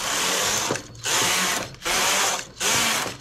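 A knitting machine carriage runs across rows of white yarn for a baby's round collar, giving three loud, even mechanical whirring passes with brief quiet gaps between strokes, close and steady.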